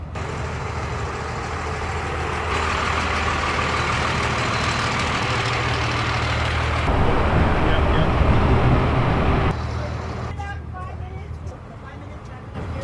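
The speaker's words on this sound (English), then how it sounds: "What is in it? A 12 valve Cummins. What kind of vehicle is this? It's a Diamond T" A Diamond T truck fitted with a 12-valve Cummins diesel idles with a steady low rumble throughout, while people talk over it and the engine noise swells for a moment near the end.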